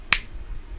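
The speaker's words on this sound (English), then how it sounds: "What happens if you suddenly snap your fingers?" A single sharp finger snap, close and crisp, stands out once near the start, followed by a faint low background hum.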